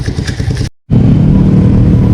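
A motorcycle riding through a neighborhood on a short local trip, its engine running loud and close with a steady rumble after a brief cut-out.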